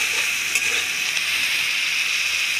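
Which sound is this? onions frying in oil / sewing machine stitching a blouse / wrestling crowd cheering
onions frying in oil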